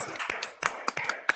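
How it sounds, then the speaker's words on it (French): A handful of people applauding at a launch event, sparse separate claps rather than a full ovation, fairly quiet and close, with a faint voice under them. "Ah, super, des gens qui applaudissent"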